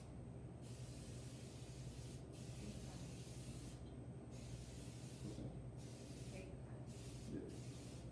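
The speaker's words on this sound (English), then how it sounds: "with the cast iron pan or a nice baking dish that you have at home, doesn't have to be cast iron, okay, you're going to spray it down" Cooking spray hisses onto a cast iron pan in several steady bursts separated by short pauses, close and moderately loud over a faint background.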